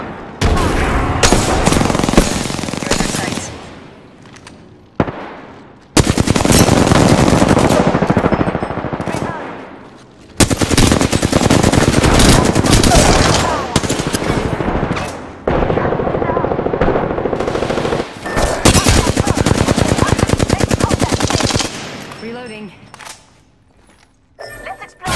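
Sustained automatic gunfire and bursts of shots in an Apex Legends battle royale match, loud and near, with brief pauses and voices calling out over the shooting.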